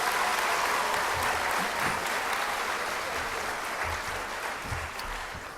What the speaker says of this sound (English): Now please give them a big round of applause.